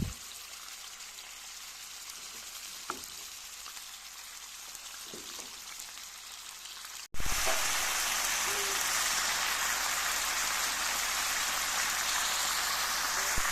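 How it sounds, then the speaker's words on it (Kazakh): Meat fries in a little oil in a hot pan over medium heat, a dense, even crackling sizzle that jumps in loudly halfway through and holds steady, following a softer hiss. "қызып тұрған тапамызға аз ғана май құйып, етімізді қуырып аламыз"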